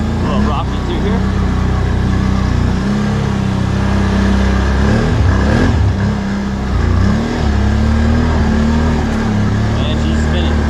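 A 2020 Can-Am Outlander 650 XMR ATV on ITP Mega Mayhem tires spins its wheels up a rocky trail, the engine droning loudly and steadily as the revs rise and fall.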